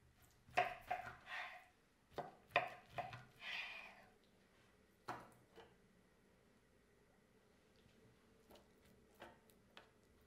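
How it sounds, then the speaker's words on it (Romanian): A knife cuts cooled tofu into sticks on a board, giving a handful of sharp, irregular taps close up, clustered at first and then sparser, with quiet gaps between. "După ce tofu s-a răcit, îl tăiem în bastonașe."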